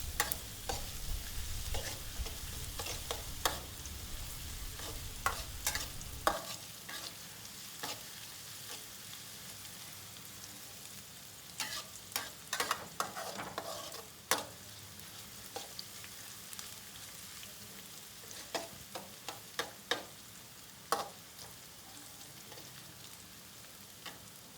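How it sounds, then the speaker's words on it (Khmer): Garlic and shallots stir-fry in hot oil in a pan, giving a soft, steady sizzle. Frequent sharp crackles and spatula scrapes sound close by, with a low rumble early on that then drops away. "យើងចាក់ខ្ទឹមសខ្ទឹមក្រហមចូលហើយប្រឡេងវាឲ្យវា រាងខ្លោចតិចៗដើម្បីឲ្យវាកាន់តែឈ្ងុយ"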